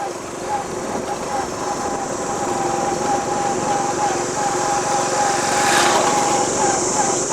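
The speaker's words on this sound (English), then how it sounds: "Here we are on a motorbike" A motorbike carries riders along a road in Vietnam with no helmets, its small engine giving a steady, close drone with wind rush for the whole stretch. Voices are faintly audible over it.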